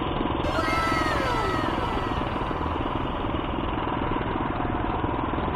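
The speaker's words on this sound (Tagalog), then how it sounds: "Mga DIY na motor." Homemade DIY motorcycles run on a street between Intramuros and Binondo, their engines giving a steady, fairly loud, close buzzing drone with a rattly, idling texture throughout.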